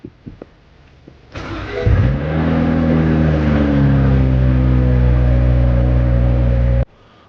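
A 2012 BMW E92 engine cranks and fires after a battery replacement, then settles into a loud, steady idle that rumbles on for several seconds before cutting off abruptly.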